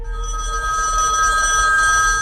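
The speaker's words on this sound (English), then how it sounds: "About an hour later, the phone rang." A telephone rings with a continuous bright, trilling bell tone, loud and close, sounding alone for a couple of seconds.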